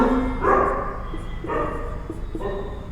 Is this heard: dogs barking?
yes